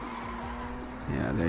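A race car engine in a racing video game revs with rising pitch, shifts gear and surges louder near the end, with a voice talking over it.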